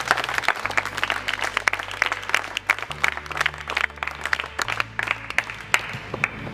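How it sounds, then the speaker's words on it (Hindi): An audience claps loudly for boxing coach Vijay Hooda, with dense, continuous applause for about six seconds over a low musical bed. No speech rises above the clapping. "लो, विजय हुड्डा जी के लिए जोरदार तालियां एक बार."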